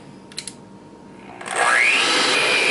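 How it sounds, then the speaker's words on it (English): An electric mixer starts up partway through and runs steadily and loudly, whirring through a homemade baking mix being blended with oil. A couple of faint knocks come before the motor kicks in. "Doing that with the mixer does two things"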